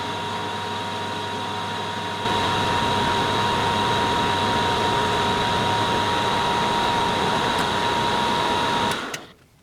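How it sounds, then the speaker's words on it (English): A lathe chamfering a hole before an M12 thread is tapped, a steady machine whine with a constant tonal hum that steps up in level after a couple of seconds, then winds down near the end. "I start by chamfering the hole"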